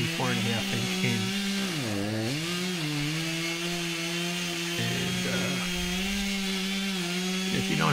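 A chainsaw drones steadily through a back cut in an emerald ash borer–infested ash tree, loud and close for the whole stretch, its pitch dipping and recovering as the bar bites, with a brief word spoken over it.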